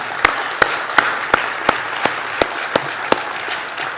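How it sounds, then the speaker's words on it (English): Applause at an online community awards ceremony for nominees and winners, heard as a thin burst of close, separated sharp claps at a steady rhythm, probably one or few people clapping, with no voices. "one more round of applause for everybody"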